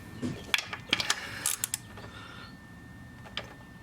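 A ratchet with a 19mm socket tightens the oil drain plug on a Zuma 125 scooter, giving a close run of sharp, quick clicks in short bursts during the first two and a half seconds, then a lone click before quiet.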